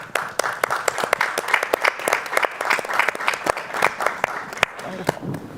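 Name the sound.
audience applause after a speech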